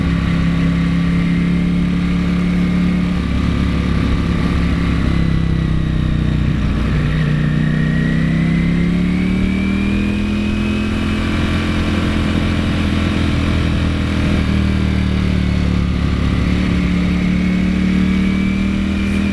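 A Ducati Panigale V4S engine drones loud and steady while riding on an open road, its pitch rising and easing with throttle changes, with wind rush underneath.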